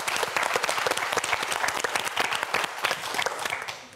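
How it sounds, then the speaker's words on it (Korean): Studio audience on a Korean TV science quiz show applauds steadily for a contestant, a dense, even clapping that fills the whole stretch without speech. "우리 편소정 학생에게 큰 박수 보내주시기 바랍니다."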